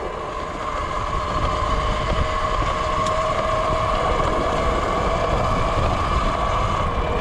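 E Ride Pro S 17 electric dirt bike riding along, a steady continuous whine with a constant high tone over broad rushing wind and road noise, no talk, holding at a uniform loudness throughout.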